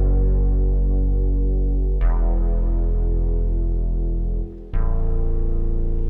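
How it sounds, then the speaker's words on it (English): A bass synth prototype with feedback applied to its reverb output drones in a steady low hum with thick overtones, struck anew twice with bright attacks that ring out and slowly decay, loud and close with no voices. "the ability to feed back on the signal that's coming out of the reverb"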